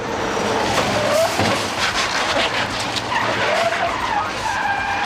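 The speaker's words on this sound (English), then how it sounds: "A big rig truck carrying more than 20 tons of drywall fails to see the abandoned car in time to stop" A big rig truck hauling more than 20 tons of drywall skids hard with sustained tire noise and roaring rumble, loud and close, as it fails to stop for an abandoned car.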